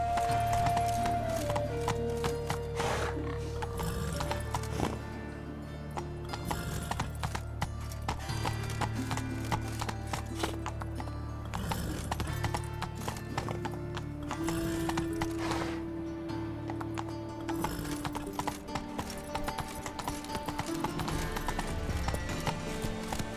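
Horse hooves clip-clopping as a horse gallops and trots in The Witcher 3 video game, a continuous rapid rhythmic beat under game music, with a brief whinny and a short shout from the rider.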